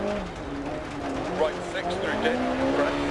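A rally car engine in a racing game hums steadily with wavering pitch under faint chirpy tyre squeals, with a voice talking over it.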